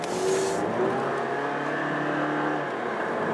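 A Dodge Dart under way on a road test, its engine a steady, moderate hum with tyre and wind noise as it moves through an S-turn, constant and fairly close throughout.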